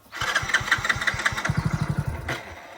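A motorcycle engine starts on a farm and settles into a rapid, even chugging idle, loud and close, with no voices over it.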